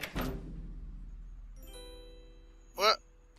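Doorbell in the adventure game Runaway 3: A Twist of Fate, a brief bright chime ringing near the end after a soft earlier knock-like thump and low background tones, with no talking.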